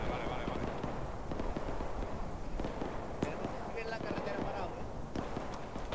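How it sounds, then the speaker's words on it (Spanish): A cannon fires in the combat video game 82AD Liberation, a sharp boom among scattered bursts and crackling battlefield noise. "eso ha sido un disparo de cañón"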